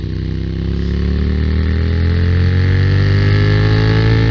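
A supermoto motorcycle engine drones loud and close on a mountain road, rising steadily in pitch as it accelerates through the gears, with no talking.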